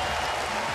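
Crowd cheering fills a baseball stadium during a game between Houston and Toronto, a steady, dense roar of many voices with no break across the short moment.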